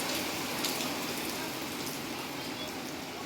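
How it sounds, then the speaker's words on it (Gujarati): Steady downpour of rain fills the air with constant broadband hiss and spatter, even and unbroken, fairly close. "મોટા મોટા સાટે વરસાદ આવે છે હવે"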